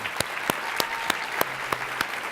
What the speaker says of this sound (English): yes, we'll clap for that